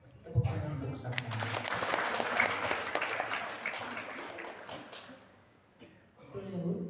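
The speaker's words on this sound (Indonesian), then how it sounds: "Tepuk tangan untuk Saka." Audience applause for Saka at a parenting talk about bullying at a nature school in Karawang, a broad wash of clapping for several seconds that fades near the end before voices resume.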